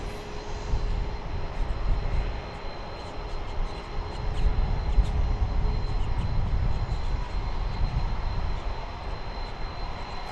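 A Boeing 737-900 airliner at DFW Airport gives off a steady, broad jet engine roar that holds for the whole stretch, with a faint high whine riding above the low rumble and no voices.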